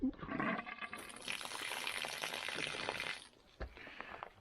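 Water runs and splashes for a few seconds in a video game, a bright rushing pour that cuts off abruptly, followed by a short clunk and quieter dribbling.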